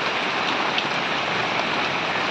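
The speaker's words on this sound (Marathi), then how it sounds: "पाऊसच भरपूर पडतोय" Heavy rain pours down steadily, a dense, unbroken roar of drops striking surfaces, loud and close with no pauses.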